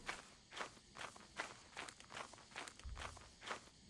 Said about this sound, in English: I think I heard a giant footstep though